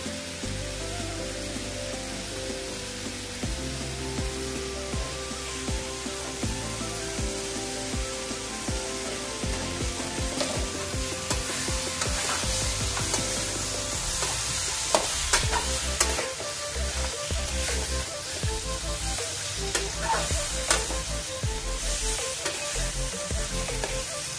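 Jackfruit pickle frying in a pan, a continuous dense sizzle with frequent scraping and clattering of a spoon stirring, close and sustained throughout.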